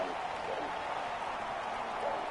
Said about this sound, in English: The crowd are going berserk.